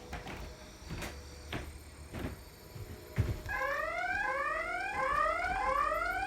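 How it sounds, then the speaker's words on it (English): A Yeskamo NVR security system alarm triggered by opening a door: a few knocks and door clatter, then a repeating rising electronic siren sweep that starts mid-clip and continues steadily, moderately loud and close. "of course you can hear the alarm"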